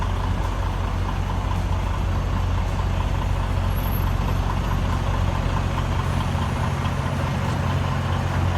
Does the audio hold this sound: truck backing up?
yes